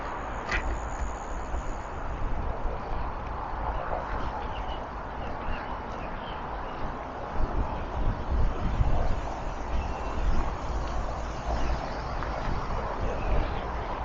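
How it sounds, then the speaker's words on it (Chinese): A continuous soft rustle of river reeds along the Ping Shan River in Hong Kong, stirred by wind, with gusty swells and low wind rumble against the microphone. "你看这个河里的这些芦苇啊，在风的吹动下沙沙作响"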